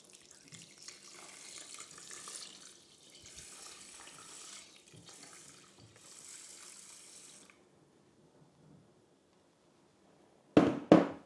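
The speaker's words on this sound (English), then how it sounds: "Just put the water in now." Water runs and splashes steadily into the bowl of a Russell Hobbs 27040 large rice cooker over washed rice, a close trickling pour in several bursts that stops, then a brief louder clatter at the end.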